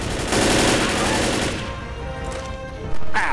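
Gunfire in the zombie shooter game Left 4 Dead: several guns fire at once in a dense, loud, continuous barrage that thins out toward the end, followed by a short sharp burst.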